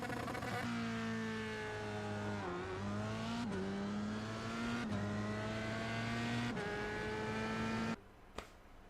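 Race car engine in the iRacing simulator revving and launching off the line, climbing through several gear changes as a loud, steady whine, then dropping away abruptly near the end.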